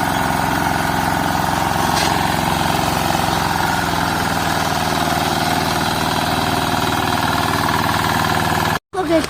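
A tractor digs out a field bund in a rural Konkan farm field, its engine chugging in a loud, steady, unbroken drone throughout, with a brief dropout near the end.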